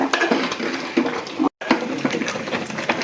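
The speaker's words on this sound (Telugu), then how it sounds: "ఈ ఉండగట్టకుండా తిప్పుకుంటా పోసి బాగా కలపాలి" Ragi flour batter stirred in a pot for village-style ragi sangati, with repeated scraping and knocking of a utensil against the pot in an uneven rhythm, briefly broken by a short silence midway.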